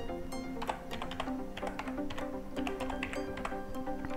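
Keys tapped on a computer keyboard in a steady, busy run of close clicks, with a faint musical tone running underneath and no voices.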